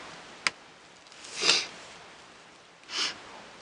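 A sharp click, then two soft airy sniffs about a second and a half apart, close and quiet against a faint background hiss.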